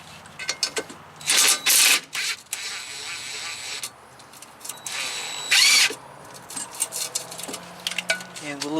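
A power tool fitted with an 11mm socket works on the air dryer of a Cascadia truck, giving two short loud whirring bursts separated by lighter metallic clinks and handling noise.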